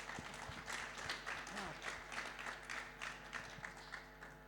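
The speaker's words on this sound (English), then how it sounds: "Welcome to the stage. Please give him a clap." Light, scattered clapping from a small audience at a founders' panel event as a speaker from an impact brand is welcomed to the stage, fairly quiet and distant, with a faint hum underneath and some individual claps standing out.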